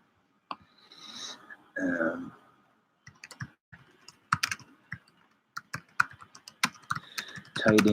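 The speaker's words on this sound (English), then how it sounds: "Typing into the other group chat" Someone types into a group chat on a computer keyboard with a close run of quick, irregular key clicks in bursts, along with a brief breath or throat sound near the start.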